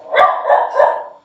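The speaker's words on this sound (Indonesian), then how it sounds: "Lagi gonggong dia." A dog barks three times in quick succession, loud and close, alone with no talk over it.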